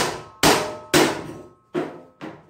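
A small hammer strikes a metal trailer profile four times at an uneven pace, each blow a sharp, close, ringing clang that fades quickly.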